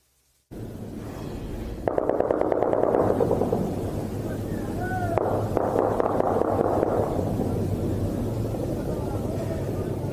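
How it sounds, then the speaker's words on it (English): Gunfire echoing across Kabul: sharp crackling bursts of shots ring out over a constant roar, likely a helicopter passing over the city, with the clatter growing denser in the middle and distant reports trailing off. "As the sounds of gunfire echo through Kabul"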